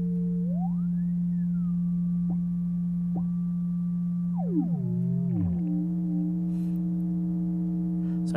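Synthesized tones play alone: a steady low hum sits under a higher electronic pitch that glides up, holds and steps down, before several layered tones slide downward together.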